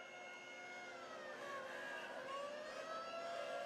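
An old-fashioned police paddy wagon siren wails faintly and steadily during the 2019 Edison Festival of Light Grand Parade, its gliding tones rising and falling over a continuous crowd and street background.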